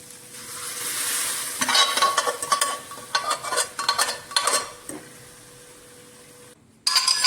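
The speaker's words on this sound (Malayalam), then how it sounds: "ഇനി ഇതിലേക്ക് നമ്മൾ ബോയിൽ ചെയ്ത ദാൽ ഒഴിക്കാം" Boiled dal poured into cooked masala in a pan hisses and sizzles loudly, followed by a run of rhythmic stirring and scraping strokes, then a quieter simmer and a sudden loud burst of sizzling at the end.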